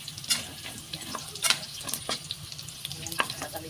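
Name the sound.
onion and garlic sautéing in a pan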